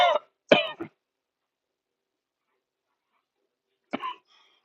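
Two short coughs close together near the start, then silence, followed by a single softer cough near the end.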